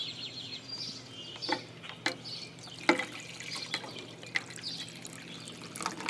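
Water from a cup is poured into the water pan of a smoker while a brisket is prepared, producing uneven splashes and drips with a few sharper plops, fairly faint and without any talking.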